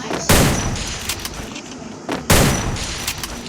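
Gunfire in a PC shooter game custom match: two loud, close bursts of shots a couple of seconds apart, each followed by a decaying rumble.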